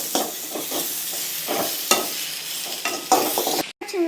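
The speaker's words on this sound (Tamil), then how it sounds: "இப்போ நல்லா தக்காளி வதங்கிடுச்சு" Tomatoes being stirred and fried for mutton gravy, a spoon scraping the pan in repeated strokes over a steady close sizzle, with a short break near the end.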